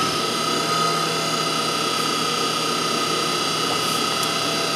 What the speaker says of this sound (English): So as we speed the pump up, we should see that suction pressure actually go down.